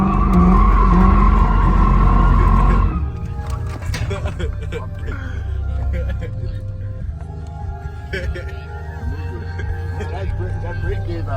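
Dodge SRT cars at a car show spin out, with a loud engine roar and tire squeal up front that give way to a noisy crowd of voices, shouts and scattered engine and tire noise.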